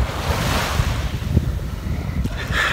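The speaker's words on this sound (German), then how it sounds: "Das Meeresrauschen hat man ja nicht immer so vor Ort" Ocean waves wash steadily onto the shore at La Rochelle, France, a continuous broad surf roar mixed with gusty wind buffeting the microphone, with no voices.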